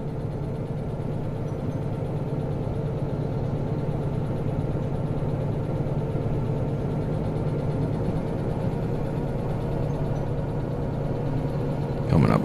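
A diesel locomotive engine in Derail Valley runs steadily, a continuous mid-pitched drone and hum that holds even throughout, with a brief louder burst at the very end.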